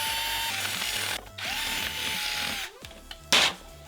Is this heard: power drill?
yes